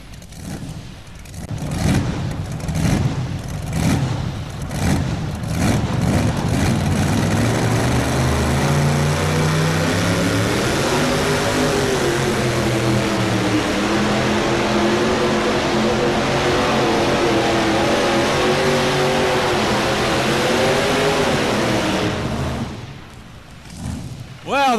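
A Kelly Chevrolet tractor-pull machine at the 1993 National Farm Machinery Show roars up to a loud, sustained engine drone lasting about twenty seconds, rising and holding steady before cutting off, with an announcer talking over it.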